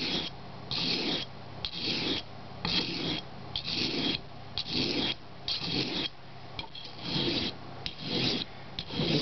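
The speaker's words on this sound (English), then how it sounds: "I'm just polishing the edge, making it a little bit finer." Knife edge stroked across the fine side of a sharpening stone, a steady rhythm of about fifteen gritty rasping passes, close and moderately loud, each stroke separated by a brief pause.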